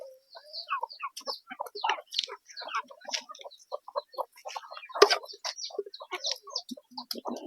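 Backyard hens being fed give a busy run of short, close clucks and chirpy calls, scattered irregularly across the whole stretch with no talking.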